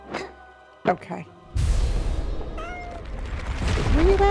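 Cat meows in House Flipper 2, a few short rising calls mixed into loud game music and effects, with a person talking over them.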